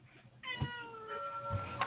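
A house cat meows indoors during an online committee meeting, giving a drawn-out meow and then a shorter one, faint and in the background with no talk.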